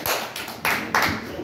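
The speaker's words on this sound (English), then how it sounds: "Go ahead, clap." A comedy-night audience claps in a few sparse, scattered bursts that are close and moderately loud, thin rather than a full ovation.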